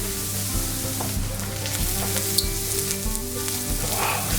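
Spices fry for a Punjabi-style egg curry, hissing and crackling steadily in hot oil in a pan, close and continuous with faint stirring scrapes and no voices.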